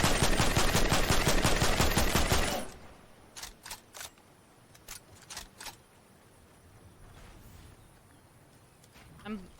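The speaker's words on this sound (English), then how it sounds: "I'm shooting at them." Video game gunfire: a loud rapid automatic burst for a couple of seconds, followed by scattered single shots and short bursts, with people talking over it.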